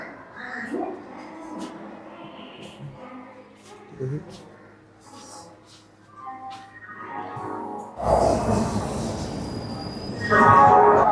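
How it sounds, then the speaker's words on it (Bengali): The Black Diamond Express rumbles and clatters as it starts leaving Howrah station, growing louder toward the end, with people talking nearby and announcements in the background. "ব্ল্যাক ডায়মন্ড এক্সপ্রেস তার নির্ধারিত সময়ের থেকে তিন মিনিট লেটে মানে ছটা আঠেরো মিনিটে হাওড়া স্টেশন ছাড়ল"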